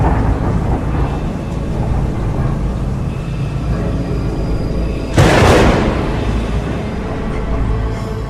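Heavy rain pours steadily over a village at night, a continuous dense hiss, broken midway by a sharp, loud crack of thunder that rolls off over a couple of seconds.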